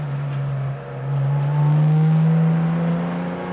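Engine of a Porsche hot rod revving on and off throttle: a steady, smooth mid-pitched drone that swells slightly and holds before easing back, heard close with no talk.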